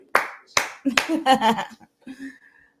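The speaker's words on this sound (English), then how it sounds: "Gotta give Jason a clap" Three sharp, separate hand claps ring out close by, followed by a short stretch of someone talking.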